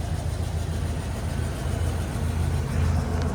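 A 1985 Chevrolet Silverado K10 4x4 pickup with a 5.7-litre 350 V8 and dual exhaust idles steadily, a low, even rumble close by with no voices over it.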